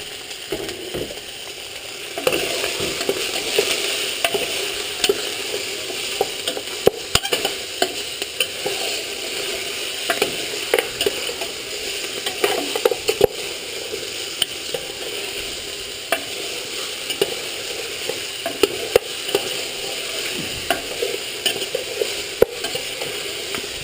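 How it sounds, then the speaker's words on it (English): Beef sautéing in a pan for pochero gives a steady sizzle, with frequent scrapes and clacks from stirring throughout. It stays close and fairly loud, with no talking. "Now we're gonna saute this."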